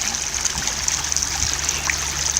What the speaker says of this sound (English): You have the beautiful sounds of the brook.